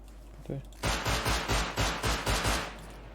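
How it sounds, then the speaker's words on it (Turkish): Revolver gunfire in a video game, a rapid run of about seven heavy, booming shots in even rhythm, loud and close, with a brief faint voice just before. "Revolver sık ya."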